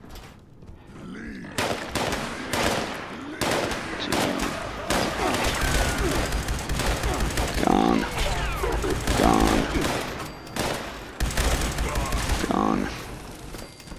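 Rapid weapon fire in Fallout 76 from a Gatling Laser or Pepper Shaker, loud bursts stuttering almost continuously with brief gaps, someone talking over the shooting throughout.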